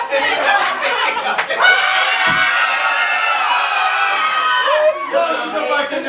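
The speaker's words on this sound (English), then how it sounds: "Everyone scream on the horror!" An audience at a comedic mock courtroom show screams and shrieks on cue, a loud, dense crowd outburst of high voices mixed with laughter that sustains for several seconds before tapering into chatter.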